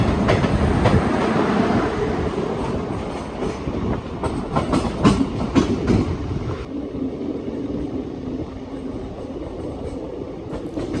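Kakatiya Express (17660) passenger train running on its tracks near Dornakal, about an hour late, a steady loud rumble with rhythmic wheel clatter and car rattle throughout, no voices.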